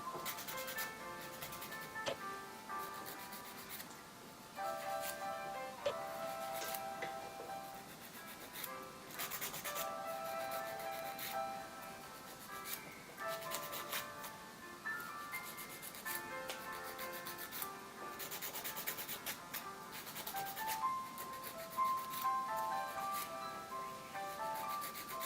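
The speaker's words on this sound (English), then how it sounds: "go back and shape the nails, okay?" A nail file shapes fingernails in quick, repeated rubbing strokes, a dry scratchy rasp close by that runs steadily with brief pauses, while faint background music plays and no one speaks.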